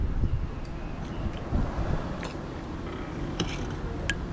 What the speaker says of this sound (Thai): ตรงนี้มันจะเป็นป่องลมนะลมมันจะกวกตลอดนะตรงนี้ฮะ